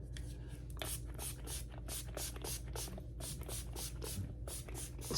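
Quick bursts of NYX Dewy Finish setting spray hiss out in a rapid, steady series of short pumps close up, with faint handling noises between them.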